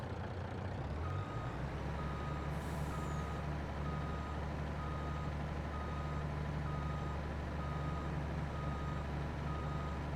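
A semi truck in Farming Simulator 22 backs up, its reversing alarm beeping steadily at a regular pulse over a low idling diesel rumble, clear and alone.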